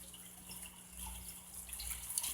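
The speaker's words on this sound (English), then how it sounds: "See, there's a little bit of water coming out now" A faint, soft trickle of water running out of aquaponics siphons, a quiet continuous wash with light dripping and no talking.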